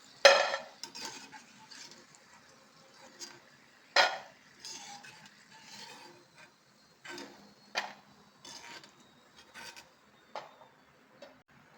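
A spoon stirs masala peanuts roasting in a pan, giving scattered scrapes and light metallic clinks at an uneven pace, close and fairly quiet, with no talking.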